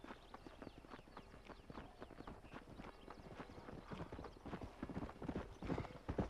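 Galloping horse hooves in Red Dead Redemption, a rapid, steady clip-clop rhythm running throughout, fairly close and loud, with a brief whinny mixed in and no speech over it.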